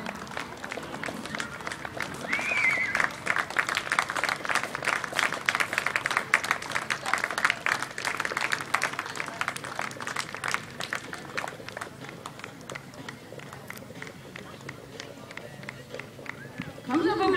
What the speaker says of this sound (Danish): de giver en flot bifald hele vejen rundt